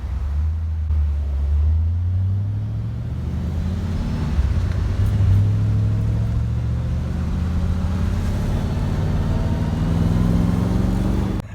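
A cheap, ratty Chevrolet Corvette C3 with a manual transmission drives along, its engine giving a loud continuous low rumble that rises and falls in pitch as it is heard from inside the car.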